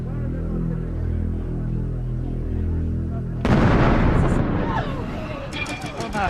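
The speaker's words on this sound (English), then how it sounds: "blowing the flat door from its hinges" After a low droning hum, a sudden loud blast as an explosive charge blows a flat door off its hinges, followed by crashing debris and clattering as the noise slowly settles.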